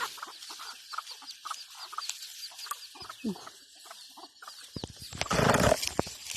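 Chickens cluck repeatedly at a rural home, short scattered clucks near and farther off, with a louder burst of noise near the end.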